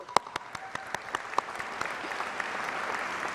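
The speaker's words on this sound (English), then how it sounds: "So a big round of applause for everyone." Graduation audience in Adelaide applauding, a crowd of many hands clapping in a dense steady wash with a few sharper nearby claps standing out early on, holding its level throughout.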